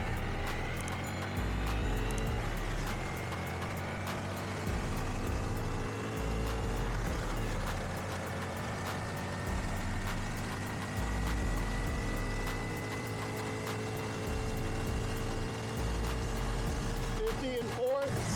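A 2025 Honda Grom SP motorcycle engine drones steadily while riding, pulling through upper gears with a continuous hum and a slight rise in pitch, heard alongside wind noise and occasional speech.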